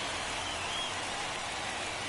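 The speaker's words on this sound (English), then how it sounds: "This rain is not letting up." Steady rain pours down during a rainy MLB The Show 24 baseball game between the New York Yankees and Cleveland Guardians, a dense, even hiss with no talk over it.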